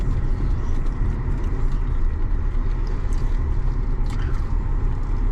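A car driving along a scenic road in the Ozarks, heard as a steady loud cabin rumble and road noise that continues without a break, with no talk.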